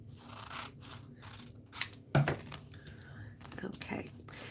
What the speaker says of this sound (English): I need some double-sided adhesive, which I have here. I'll cut it down.